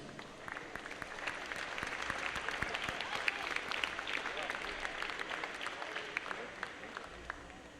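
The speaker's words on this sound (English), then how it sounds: "Let's give all of those teams a round of applause" A crowd applauds the basketball teams at a college awards gathering, with dense clapping holding steady for several seconds and scattered louder individual claps rising above the wash, along with some faint voices.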